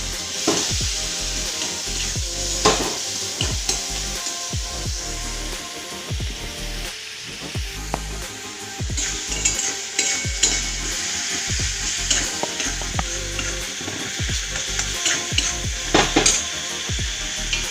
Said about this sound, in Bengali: কড়াইটার আলুটা সেদ্ধ করা, সেটাকে দিয়ে একটু নাড়িয়ে